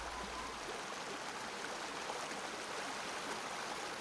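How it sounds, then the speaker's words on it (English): Rushing water pours in a steady, broadband hiss that stays even and unbroken from start to finish, like a nearby stream or small cascade, with no voices over it. "Even the tiny beat of moth wings can be filtered out from the sound of rushing water."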